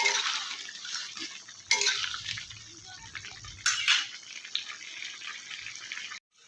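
Vegetable curry being stirred in a pot with a utensil, giving steady scraping and clinking against the metal with wet, watery textures and a couple of sharper knocks, close and moderately loud with no talking.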